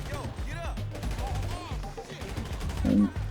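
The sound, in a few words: weapon gunfire in the video game GTA Online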